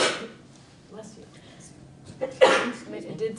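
A single sharp sneeze breaks through during a live-streamed conversation, sounding loud and close, with people talking quietly before and after it.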